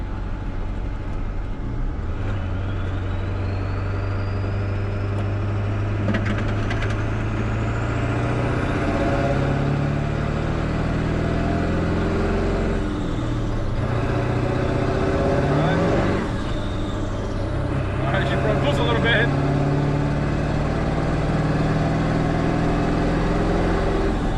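A Ford OBS 7.3 diesel pickup truck with an intercooler accelerates hard from third to fifth gear toward highway speed. A loud droning engine rises in pitch, drops at each shift and climbs again, heard from inside the cab.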